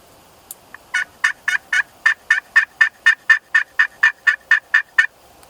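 A wild turkey tom calls from close by in an open field near a roost: about seventeen loud, sharp, evenly spaced notes in a quick rhythmic series, with nothing else around them.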